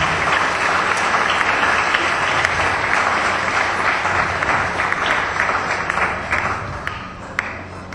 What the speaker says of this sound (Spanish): ¿Por qué no le dan un fuerte aplauso al Rey de Reyes y Señor de Señores?